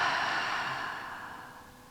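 A long, deep breath let out slowly through the nose and mouth while lying on the back in a gentle yoga session, close and airy, starting full and fading steadily over about two seconds.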